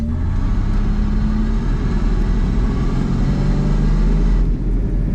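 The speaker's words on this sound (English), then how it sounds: "This is how it accelerates." A 1995 Ford Mustang with about 200 horsepower accelerates, its mid-range engine droning steadily and loudly from a close, in-car perspective, with no voices over it.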